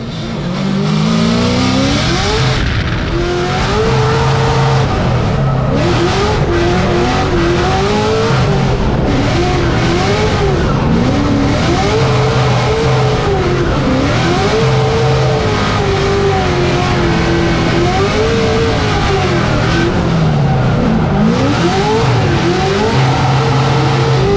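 Formula Drift cars competing in arena-style drifting in New Jersey, including a Toyota 86, with engines revving and wailing continuously, rising and falling in pitch with throttle changes, loud and close throughout with tire noise mixed in.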